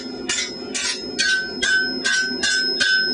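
A 1,000 gram partially crowned hammer, using its curved face, shapes metal pieces into kelp forms. Seven evenly spaced, ringing metallic blows land about every half second, each leaving a brief bell-like tone.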